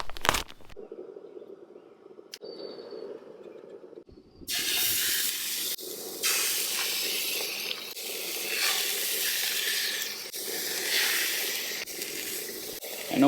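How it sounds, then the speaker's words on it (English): A steak sizzles over a campfire, unseasoned, at a solo camp: a loud, steady hiss bursts in and holds, following a quiet stretch with a few faint knocks. "let's cook up that steak"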